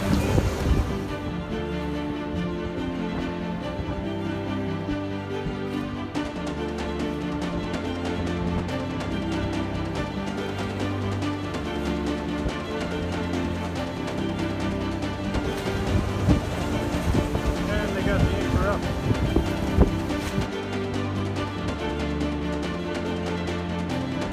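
Gale-force wind and waves buffeting a boat dragging anchor off Key West, a continuous loud roar of gusts and churning water with no let-up and no voices.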